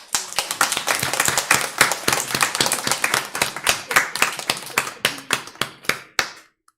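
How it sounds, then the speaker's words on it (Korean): A church congregation claps together to welcome a pastor's son during a Sunday service: a close, steady run of hand claps that thins into a few scattered, distinct claps before stopping. "우리 박수로 환영하겠습니다"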